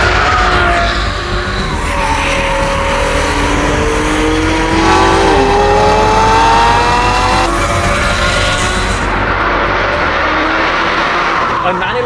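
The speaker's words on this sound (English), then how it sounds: "a sweet revving, naturally aspirated 6-cylinder engine, a Porsche flat 6 singing through custom open pipes" A naturally aspirated Porsche 911 flat-six engine revs and wails through custom open exhaust pipes, pitch climbing and falling continuously, with a voice talking over it.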